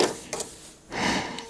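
Sewing machine back stitching with an edge stitch foot while making reusable cloth paper towels: two short bursts of rapid mechanical whirring close by, with a brief pause between them.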